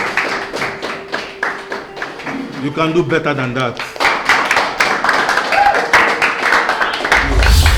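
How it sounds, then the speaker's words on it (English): A school audience claps in scattered bursts while someone speaks over them, the clapping and voices mixing throughout at close range. "And you clap for us."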